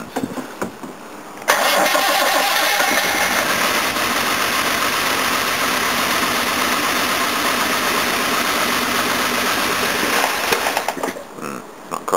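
A Jaguar XJ6 with a newly fitted engine cranks briefly, then catches and runs loud and close at a rough, uneven idle, not firing on all cylinders, before cutting out.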